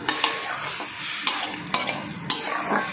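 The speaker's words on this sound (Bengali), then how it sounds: "এবার সেদ্ধ করে রাখা ডালটা আমি দিয়ে দিচ্ছি।" Boiled lentils are stirred into a pan of gime greens, with a soft sizzle under sharp scrapes and clinks of a spoon against the pan, several distinct strokes spread across the moment.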